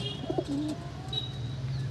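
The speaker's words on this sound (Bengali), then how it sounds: "যে কটা পায়রা দেখাবো সব আন্ধ্রা পায়রা।" Andhra pigeons coo softly in a loft, a few low throaty coos close by over a steady background hum, with faint higher chirps in between.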